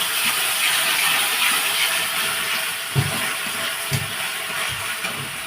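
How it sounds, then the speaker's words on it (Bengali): A pasta mixture with soy sauce sizzles and hisses steadily in a frying pan, and a few soft knocks of a spoon against the pan break through the continuous frying noise. "এবারে এটাকে আমি একটুখানি ফ্রাই করে নেব।"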